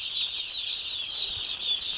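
Young chickens in a poultry shed make a steady, continuous high chirping chorus, fairly soft and even throughout, with no voices.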